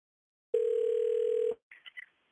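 A single steady telephone ringback tone sounds for about a second on a call about to go to voicemail, followed by a few faint clicks and quiet.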